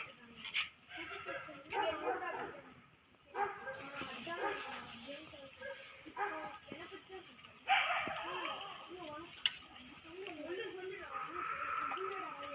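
Dogs in a home whimpering and yipping, thin high cries and short yelps scattered irregularly, fairly close, mixed with people talking over them.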